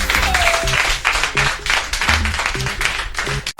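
Applause from a radio show audience rises under a musical passage with sung or played tones, the clapping broad and continuous before cutting off sharply at the end.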